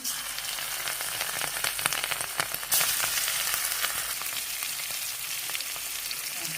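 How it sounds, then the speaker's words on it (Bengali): Fish frying in hot oil, a dense steady sizzle and crackle with a sudden louder burst partway through, close and continuous with no talk. "তেলটা গরম হয়ে গেছে আমি মাছগুলো এখন দিয়ে দিব এসব মাছ দিয়ে নিছি এর জন্য মাছগুলো ভেজে নেই"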